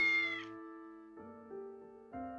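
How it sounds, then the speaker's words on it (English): A cat meows in a visual novel game, with three clear, tonal meows spaced apart, each long and clean against a silent background. "A white cat zipped past me."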